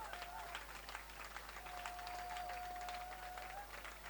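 Audience applause for the Apostle at a Kantanka tech expo in Ghana: a steady, moderately loud wash of clapping from a crowd, with a thin sustained tone running through it.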